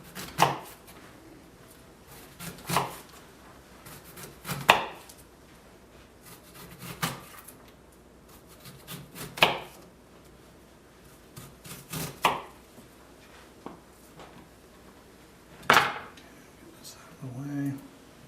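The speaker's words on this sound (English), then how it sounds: "let's jump in here and finish up this slicing" A knife slicing and dicing onion on a cutting board, sharp regular chops roughly every two to three seconds, close and distinct, with quiet background noise between strokes and no speech over them.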